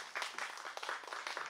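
Applause at a singing showcase after a young performer's set, dense patter of many hands clapping steadily throughout, moderately distant and fairly quiet, with no talk over it.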